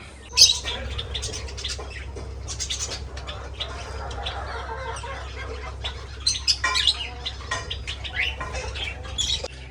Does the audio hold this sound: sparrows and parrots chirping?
yes